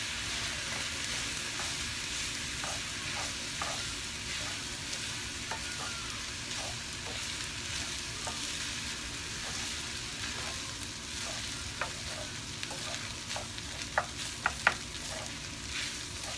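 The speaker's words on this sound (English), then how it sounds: "Mix it right now. Break up the rice a little." Rice being stirred and fried in a pan for Chinese house special fried rice, a steady quiet sizzle broken by repeated scraping and clinking strokes that grow louder near the end.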